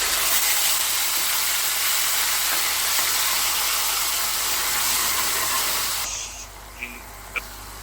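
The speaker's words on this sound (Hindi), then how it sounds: "अब इसमें ये कद्दूकस करे हुए टमाटर है और हरी मिर्च भी काट रखी है, ये भी ऐड कर देती हूँ" Grated tomatoes and chopped green chilli go into a pan of hot, fried cumin and asafoetida, giving a steady loud sizzling hiss that drops off sharply near the end, followed by a couple of faint clinks.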